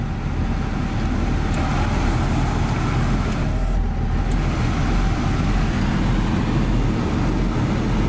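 A steady, broadband whoosh of a Nissan R32 Skyline's air conditioning blower running alongside the low hum of the idling engine, continuous and close.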